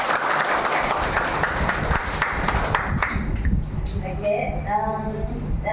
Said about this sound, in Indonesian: bagi tepukanlah kepada dia